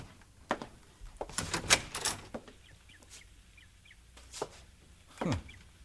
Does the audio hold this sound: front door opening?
yes